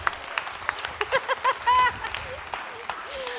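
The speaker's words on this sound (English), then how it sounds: "can we give a warm round of applause to our Santas" An audience at a Christmas event applauds the Santas, scattered claps close by mixed with laughter and brief voices, the clapping staying light and irregular rather than building to a full ovation.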